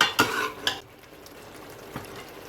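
Goat liver (kaleji) with garam masala is stirred in a pan over medium-low heat, opening with a few sharp spatula clinks against the metal before settling into a faint, soft sizzle.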